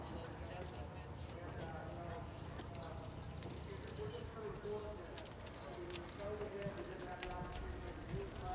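Horses walk around a 4H fair show arena during western classes, hooves clip-clopping in a loose steady rhythm beneath distant birds and an announcer's voice.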